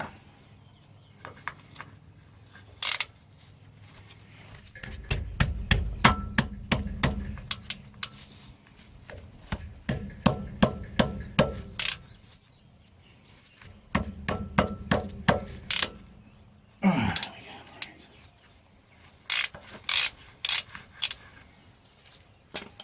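A ratchet works loose the axle oil filler bung on a Nissan Patrol GR TD42 diesel, with bursts of rapid clicking and a few metallic knocks close by, separated by quiet pauses.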